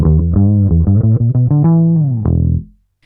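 Distorted bass guitar through the Seismic Bass Suite plugin using a U47 microphone impulse, a rapid riff of a dozen or so close, loud plucked notes building upward before a final struck note rings out and stops abruptly.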